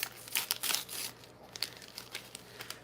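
Tea bag wrapper crinkling and rustling as it is opened, faint and close, with irregular small crackles and soft tearing bursts throughout.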